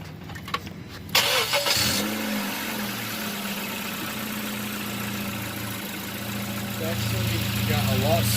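A 2013 Honda Civic EX, fresh from a spark plug change, starts with a short crank and settles into a smooth, steady idle heard up close, with a voice talking over the running engine.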